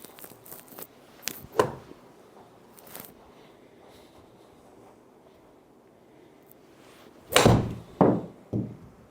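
A golf club strikes a ball outdoors with a sharp, crisp impact, set among a few other scattered knocks and clicks over quiet background ambience.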